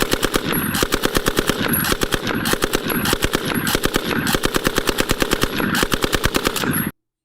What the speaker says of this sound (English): the Lewis gun revolutionized the battlefield in a time when rifles were only as fast as you can operate the action